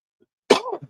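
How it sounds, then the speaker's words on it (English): A single short, dry cough, close to the microphone, in an otherwise quiet moment. "It was actually a cough"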